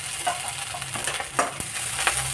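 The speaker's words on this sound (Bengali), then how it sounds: "এবার শীতলটা ভাজা হয়ে গেছে" Dried fish (shidol) fries in a pan and is stirred, a soft steady sizzle with occasional scraping strokes close by, fairly quiet and without talk.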